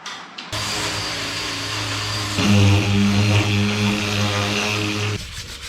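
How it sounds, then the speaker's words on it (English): A power sander working on the snorkel of an ex-army Unimog, a loud steady droning whine that starts abruptly, deepens and grows louder midway, then cuts off near the end. "the snorkel is all sanded"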